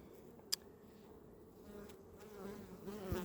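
Honeybees buzz steadily around a hive as foragers return loaded with pollen and nectar during autumn swarm preparation, a close, continuous hum with a few louder passes near the microphone.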